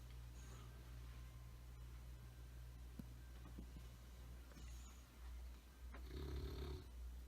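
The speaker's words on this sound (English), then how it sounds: "She just came in, snoring." Pet snoring faintly nearby in a quiet indoor room, soft rasping breaths repeating over a low background hum, with a louder snort-like burst near the end.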